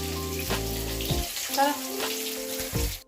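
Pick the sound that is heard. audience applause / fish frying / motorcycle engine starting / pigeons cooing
fish frying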